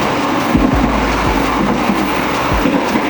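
A passenger train's business-class restaurant car, built in 1965, rolls on the rails with a steady loud rumble and periodic clickety-clack wheel thumps over rail joints, heard up close from inside the carriage.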